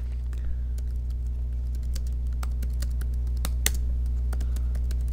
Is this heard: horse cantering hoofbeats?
no